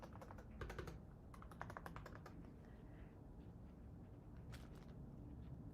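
Keystrokes on an Epomaker HE75 Hall Effect keyboard rattle in quick clustered bursts with short pauses, a steady close-up typing sound with no voices.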